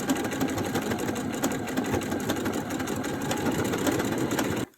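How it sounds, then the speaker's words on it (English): A sewing machine runs steadily at close range, its rapid mechanical stitching rattle continuing without pause before stopping abruptly at the end. "I was paying more attention to the sewing machine than I was actually looking at what I was sewing"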